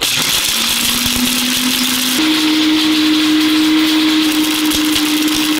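An electric chopper whirs steadily as it chops onions, a loud continuous motor hum whose pitch steps up slightly partway through, close and with no talk.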